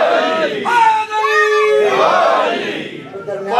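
A crowd at a Muharram religious gathering roars slogans in unison, a loud sustained chorus of raised voices that swells and tapers across the moment.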